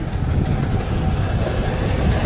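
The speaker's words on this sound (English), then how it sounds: "here we have a passenger train, but it's fairly small" A small passenger train in Mongolia rumbles past close by with a steady, heavy roar and faint clattering of wheels over the rails, continuous throughout with no talking.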